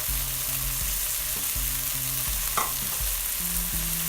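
Garlic and ginger paste frying in a pan for curry, a steady, close hiss of sizzling oil with a low hum running beneath and no voices.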